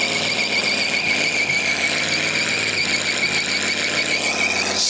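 A demolition derby car's tires squeal continuously at full throttle, a loud, sustained high-pitched shriek of shredding rubber with engine roar beneath, holding steady for several seconds.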